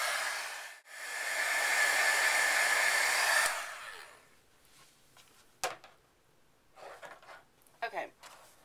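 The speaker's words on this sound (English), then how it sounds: "now my embossing, my heat tool" Embossing heat tool blowing a steady, loud rush of hot air over card paper for about three seconds, then switched off, followed by faint paper handling and small clicks.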